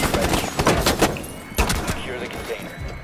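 An SASG-12 semi-automatic shotgun in Rainbow Six Siege fires loud, close, punchy shots in quick succession, mixed with other clattering gunfire and game noise.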